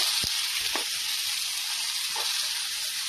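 Potato filling with spices frying in a pan gives a steady, close sizzling hiss throughout, with a few brief stirring scrapes and taps.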